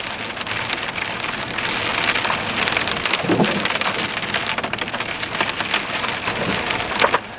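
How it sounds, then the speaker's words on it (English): Steady rain drums on a trailer roof and nearby surfaces, a dense continuous patter of drops with occasional louder taps, and no voices throughout. "I don't want to be sitting in the trailer listening to the rain all day"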